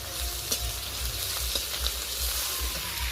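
Garlic paste fries in a pan over a low gas flame for a banana peel bharta, giving a continuous close sizzle with occasional light stirring taps and small spits.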